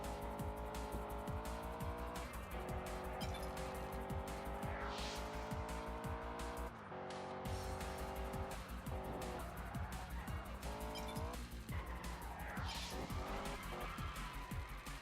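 A car in the racing video game Test Drive Unlimited, its engine droning steadily at high revs with tire squeal as it spins out, loud and continuous with a brief dropout midway.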